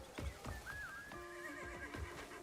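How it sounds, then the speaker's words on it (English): A horse in Monster Hunter Wilds gives a clear whinny that rises and falls, mid-distance and fairly faint, over soft thudding hoofbeats and game ambience. "And there's also like a horse."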